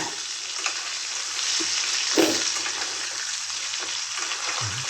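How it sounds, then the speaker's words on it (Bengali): Boiled, peeled small potatoes fry in oil, a constant close crackling sizzle with a few soft knocks from stirring. "আলুটাকে সেদ্ধ করে ছাড়িয়ে এবার আমি এটাকে ভেজে নিচ্ছি"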